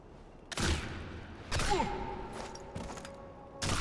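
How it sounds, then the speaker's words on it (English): Pistol shots ring out in the video game Sniper Elite 4: four sharp, separate cracks spaced about a second apart, each followed by a short echoing tail, with no talking. "I might be able to get this guy with a pistol."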